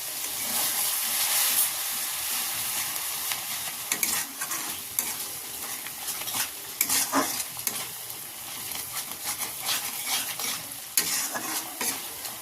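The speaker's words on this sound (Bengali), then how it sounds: "দিয়ে দিলাম একটু জল। দিয়ে আবারও মশলাটা ভালো করে মিশিয়ে নেব।" Spice masala with a little water and sugar gets stirred and mixed in a pan for Bengali peas-and-potato aloor dom, a steady hissing sizzle with scraping strokes throughout, close and continuous, no talking.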